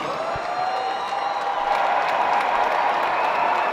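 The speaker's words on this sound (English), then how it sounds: "please put a big round of applause together for both of the fighters in this ring" Steady applause from a large boxing crowd fills the whole clip, dense and sustained clapping with a few faint cheers.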